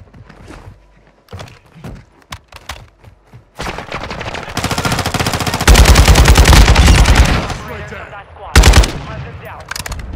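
Call of Duty: Warzone 2.0 squad firefight: scattered single shots and thuds build into loud, sustained automatic bursts, followed by a final sharp volley, close and dominant.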